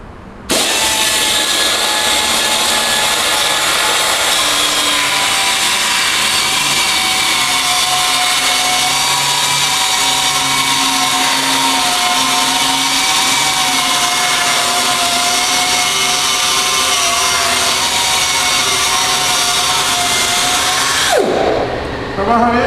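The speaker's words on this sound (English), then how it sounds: "now that we got our reel set up, ready for bed knife grinding, let's go ahead and give it a couple passes" A grinder makes passes across the bedknife of a reel mower, a loud, steady, high metallic whine that runs unbroken for about twenty seconds before cutting off.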